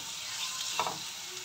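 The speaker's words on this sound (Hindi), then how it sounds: "अभी चार से पाँच मिनट के लिए मैं इसको अच्छे से भून लूँगी" Chicken liver fries in a pan with a steady, close sizzle and a faint stirring scrape partway through; no one speaks.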